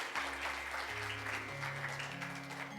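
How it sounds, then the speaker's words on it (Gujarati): A crowd at a devotional katha gathering in Haridwar claps in a soft, steady patter, with sustained musical tones running beneath the applause throughout. "તાળીઓના ગડગડાટથી વધાવો એટલે કાલની તૈયારી કરે."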